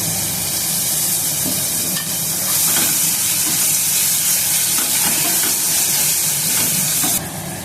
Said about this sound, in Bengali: আমি এবার চিকেনটাকে দিয়ে দিচ্ছি এর মধ্যে